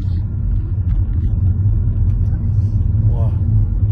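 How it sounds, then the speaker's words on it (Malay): A car engine rumbles low and steady close by throughout, with occasional voices talking over it. "ni kereta nak buat apa ni?"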